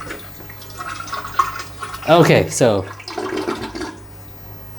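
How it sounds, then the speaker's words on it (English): A hotel toilet in Ho Chi Minh City flushes with a swirling vortex rather than a power flush, a brief gurgling rush of water that rises and fades within about two seconds, with someone talking briefly before and around it. "the water moves in a vortex format from that other hole, but it is not a power flush"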